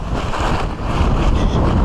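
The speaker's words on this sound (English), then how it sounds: "Just too windy." Strong wind buffets a forest hilltop, a loud, continuous rushing roar with gusty low-end rumble against the microphone.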